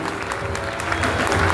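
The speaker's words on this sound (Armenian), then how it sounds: "Պիտի խնդրեմ շատ բարձր ծափահարություններ հնչեցնենք մեր" Wedding guests give loud applause for a newly married couple, a full, steady crowd clapping that swells slightly toward the end, with faint voices mixed in.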